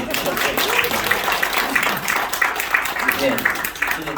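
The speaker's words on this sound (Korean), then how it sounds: "박수로" A ceremony audience at a private detective academy graduation claps together, a lively rippling applause of moderate loudness running throughout while a voice talks over it.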